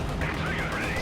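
Dense, continuous rattle of distant gunfire under a steady battle din, with no clear separate shots, from a World War II-style strategy video game with a Tiger tank under anti-tank fire.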